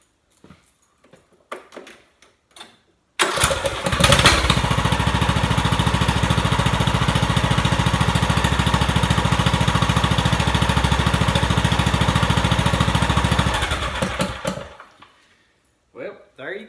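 A Briggs & Stratton lawn mower engine, freshly fitted with a new camshaft, cranks and fires after a few faint handling clicks, then runs loud and steady for about eleven seconds before winding down and stopping.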